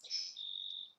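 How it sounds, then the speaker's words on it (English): A single high, thin chirp held for about a second, bright and fairly faint, with nothing else around it, heard through an open window in spring. "you could probably hear the birds chirping in the background"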